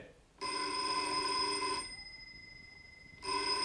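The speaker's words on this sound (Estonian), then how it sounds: "Tatjana! Telefon" A telephone bell rings in two long bursts with a short gap between, loud and close, with no voices over it.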